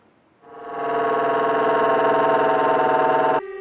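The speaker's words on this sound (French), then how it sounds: "la sirène du PPI, plan particulier d'intervention déclenché par la préfecture, a retenti à Saint-Chéron" A civil alarm siren sounds in Saint-Chéron during a prefecture-triggered emergency drill, rising quickly into a loud, sustained, wavering tone with a harsh, distorted edge before cutting off abruptly after a few seconds.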